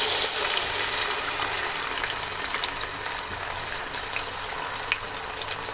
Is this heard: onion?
yes